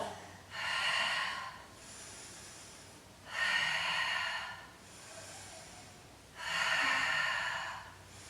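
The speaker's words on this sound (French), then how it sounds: "On souffle et on inspire" Slow, deliberate breathing during a Pilates exercise, three long forceful exhales through the nose separated by quieter inhales, close and steady in rhythm, with no talking.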